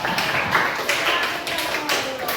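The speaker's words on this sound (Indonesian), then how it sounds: "Dan tepuk tangan dulu kita semua." A classroom group at a teacher training session breaks into applause, a brief burst of mixed clapping and taps with voices talking over it.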